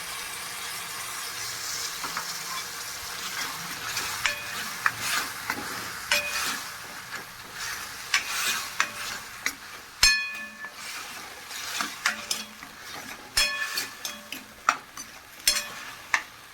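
Soaked masoor and moong dal with tomatoes being stirred and sautéed in a pan, a soft sizzle under frequent spoon scrapes and sharp clinks against the vessel, growing busier toward the end.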